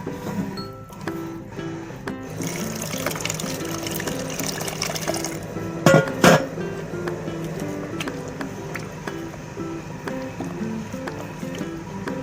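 Water is poured steadily into jowar (sorghum) flour for papad dough, a continuous close liquid gush and squish lasting throughout, with a brief louder splash midway.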